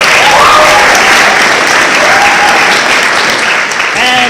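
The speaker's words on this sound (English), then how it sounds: "Give her a round of applause." An audience at a live stream show applauds, loud sustained clapping that fills the whole stretch, with a few faint whistles or voices mixed in.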